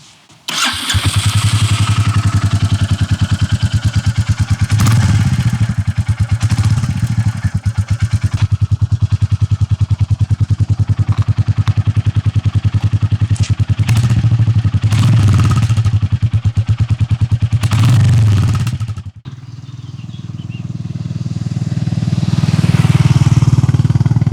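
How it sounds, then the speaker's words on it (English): Royal Enfield Classic 350 with a 350cc single-cylinder engine and exhaust, running loud and close with a steady pulsing rumble and a few revs, then dropping briefly before building again. "Another thing that I really love on this bike is the sound of this 350cc one-cylinder engine and the exhaust."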